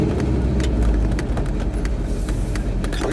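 A car rounding a bend on a road, a steady low rumble of engine and road noise from inside or close by, moderately loud and continuous, with no talking.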